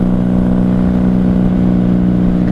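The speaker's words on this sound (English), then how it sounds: "Oh, are we starting to sputter?" A 1994 Honda Magna 750 motorcycle engine running low on fuel, a steady loud close drone with a slightly uneven, faltering low rumble.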